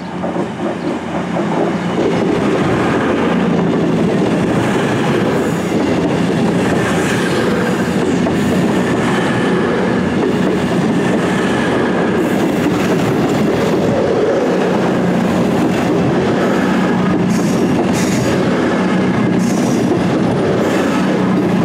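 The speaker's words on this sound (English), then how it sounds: "A lot of diverted trains passing locations they don't usually pass." Train passing on the North Staffordshire line near Stone Station, a loud, sustained rumble with rhythmic clickety-clack of wheels over rail joints that builds in the first seconds and holds steady throughout.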